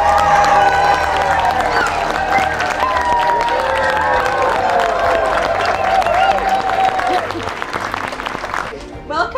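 Wedding guests break into loud, sustained applause and cheering as a couple enters a reception, a dense crowd roar with whoops rising over clapping, fading near the end.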